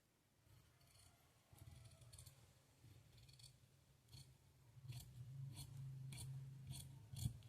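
Scissors cut through blouse fabric on a table, with faint, soft snipping that grows into a steady run of regular crisp cuts near the end over a low background hum, with no talk.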